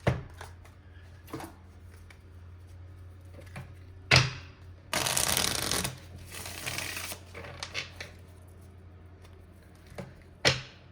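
Tarot cards shuffled in several bursts, with a long dense riffle of crisp card slaps in the middle and a few short taps and flicks before and after, close and fairly quiet.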